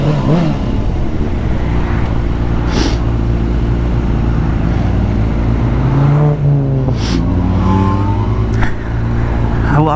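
Motorcycle exhaust rumbles steadily and close throughout a ride, with a few rising rev swells and wind noise over the engine drone.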